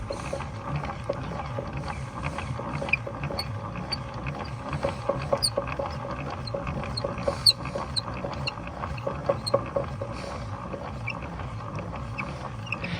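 Crank winding on a Victor Victrola VV-IX phonograph, heard as a continuous close mechanical ratcheting and clicking, fairly quiet and steady, with small irregular ticks from the gears throughout.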